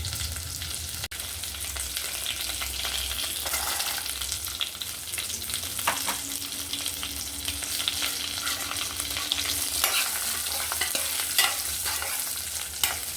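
Two dried red chillies frying in oil with urad dal for a leafy greens fry, a steady close hiss and crackle of sizzling with occasional stirring scrapes throughout.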